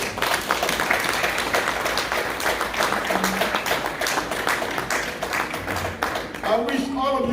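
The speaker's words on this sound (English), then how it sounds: "Let's clap for ourselves." An audience at a Gambian 60th Independence Day celebration in Reading, Pennsylvania claps steadily for several seconds, a dense crowd patter mixed with voices and cheering, with a brief vocal sound near the end.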